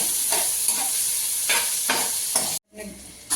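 Onions frying in mustard oil in a home village kitchen in Punjab, a steady loud sizzle with rhythmic stirring scrapes, then a sudden brief drop to near silence before the sizzle returns.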